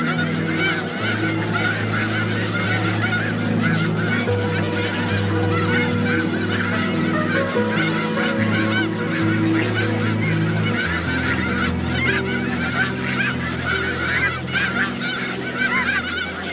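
A large flock of snow geese grazing on farmland keeps up a dense, continuous chorus of honking and yelping cries, loud and overlapping throughout, with a steady wash of many birds near and far.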